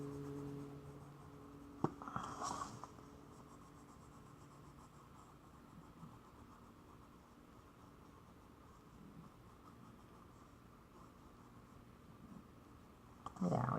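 Faint, soft scratching of a red colored pencil filling in a mandala on paper, steady and quiet, with a few sharper taps and scrapes near the start and the end.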